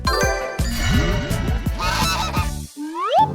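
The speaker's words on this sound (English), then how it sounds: "this bird speaks by honking." Several honks from a goose on a craft-themed animal sound clip, a loud rapid run of cartoonish calls with a jingly musical backing, ending in a rising whistle-like slide.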